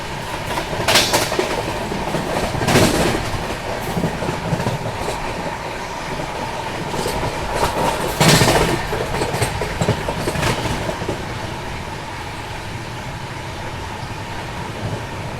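The Howrah Jodhpur Express runs along with a loud, steady rumble and clickety-clack of the carriages on the rails. A few sharp bursts break through, and no one speaks.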